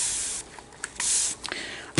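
A handheld water bottle sprays water onto a piece of leather before marbling with dye and shaving cream, giving a few short hissing spritzes at close range with quiet gaps between.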